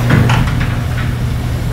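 A door in a smart home opens or closes with a short knock and sliding rumble, loud and close, over a steady low hum.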